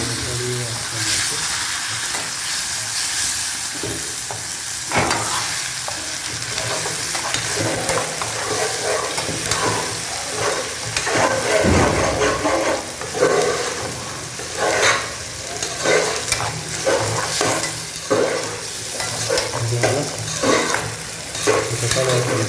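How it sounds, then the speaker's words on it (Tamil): Tomatoes frying in hot oil in a pan for a drumstick and drumstick-leaf kulambu, a steady sizzle broken by repeated scraping stirs, with a soft voice speaking now and then underneath. "அப்போ நம்ம இதில் தக்காளி போட்டுறோம்."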